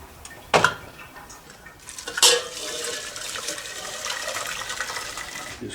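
Prawn liquid being strained from a saucepan into a pot for shark fin soup, with two sharp metallic clanks followed by a steady soft trickle and splash of liquid, no talking.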